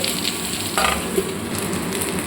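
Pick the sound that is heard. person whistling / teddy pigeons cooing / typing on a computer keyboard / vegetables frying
vegetables frying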